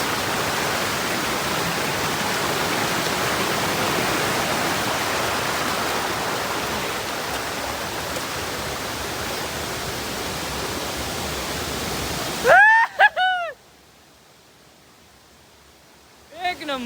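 A hidden waterfall below Kamandurg fort roars as a loud, steady rush for about twelve seconds, then cuts off abruptly to quiet, with brief voices heard near the end.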